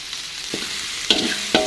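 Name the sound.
stirring seasoning in frying pan for quail egg balado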